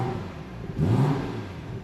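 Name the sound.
BMW 340i B58 six-cylinder engine revving, sport mode valves open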